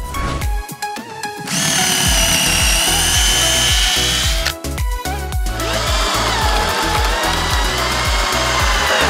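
A power drill drives a screw into wood in two long whirring runs with rattling clicks before and between them. The sound is close and loud, with no talking.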